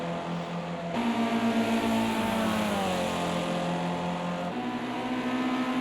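A Formula C race car at Watkins Glen drones loudly and continuously, its engine pitch shifting as it brakes and then powers on, heard close and alone with no talk.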